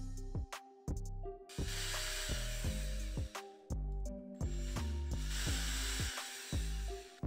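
A small screwdriver or driver ratchets repeatedly while removing screws from a Wahl 1919 clipper, giving close, crisp clicking bursts separated by brief pauses and a few sharp clacks, with no talking.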